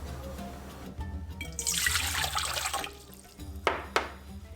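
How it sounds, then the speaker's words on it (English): Lukewarm water poured into a mixing bowl for Turkish pide dough, a steady trickling splash that swells and fades, followed by a couple of brief knocks, close and alone. "to my mixing bowl I added 1 cup lukewarm water and 20 grams fresh yeast"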